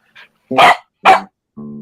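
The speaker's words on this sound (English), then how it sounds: "I think the dog is howling." A dog gives a few short barks and yips, close by, then a sustained harmonic howl-like tone at the end.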